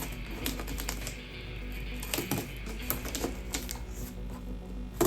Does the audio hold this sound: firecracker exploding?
no